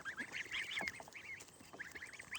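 Pekin ducklings and goslings calling, a run of high, thin peeping chirps repeated quickly and fairly close, with soft rustling and no talk.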